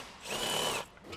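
A power tool whirs briefly while removing exhaust manifold bolts from a 2004 Ford Mondeo ST220, one short close burst under a second long.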